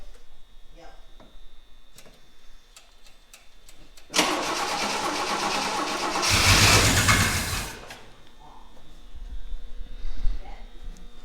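A fire-damaged 1965 Rambler 770 Convertible that has long sat unused, cranking loudly and steadily after fuel is poured into the carburetor, with faint clicks and background noise before the sustained churning cranking begins.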